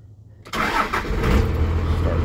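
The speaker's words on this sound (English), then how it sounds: "Starts right up every time. Idles real nice." A 1994 Dodge Ram truck engine cranks and fires after a moment of quiet, then settles straight into a steady, loud, low idle rumble close by.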